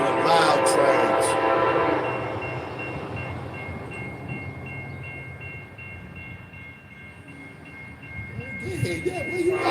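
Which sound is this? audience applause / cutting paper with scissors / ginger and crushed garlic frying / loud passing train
loud passing train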